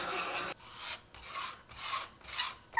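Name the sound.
heavy glass weight grinding wet lapis lazuli pigment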